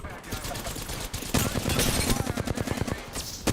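Rapid automatic gunfire in Apex Legends, dense bursts of shots firing close and loud, with a player's voice briefly in the mix.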